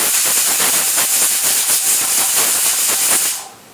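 A pressure canner holding processed green beans vents excess steam through its spinning top, giving a loud, steady hiss with a faint fluttering rhythm that cuts off abruptly near the end.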